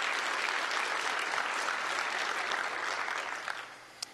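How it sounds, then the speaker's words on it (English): A crowd at a Kubernetes launch event applauds the team and open-source contributors, a dense, steady round of clapping that tapers off near the end. "I want to just give a quick round of applause to the team and all the open source contributors"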